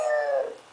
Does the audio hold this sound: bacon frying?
no